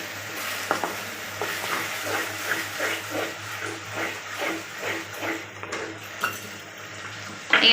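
A spatula stirs tomato, garlic and ginger paste into onions and capsicum in a pan for pav bhaji, making rhythmic scraping strokes about twice a second over a soft sizzle, with occasional clinks and no talking.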